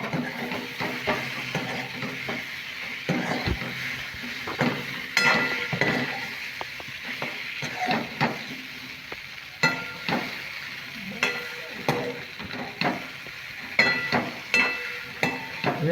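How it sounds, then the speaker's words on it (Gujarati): A semolina snack mixture sizzling in a pan while being stirred, with a soft steady fry under repeated rhythmic clinks and scrapes of a spoon against the metal. "હવે આપણે આ રીતે બધા જ હલાવીને એક સરખા મિક્સ કરી દઈશું"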